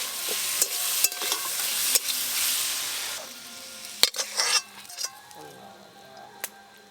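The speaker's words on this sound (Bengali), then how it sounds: "এই যে পেঁয়াজ এগুলো ভেজে আবার বাটা" Onions frying in a pan and being stirred, a clear close sizzle with scraping stirs that is loudest for the first three seconds, then fades to quieter sizzling with occasional clinks.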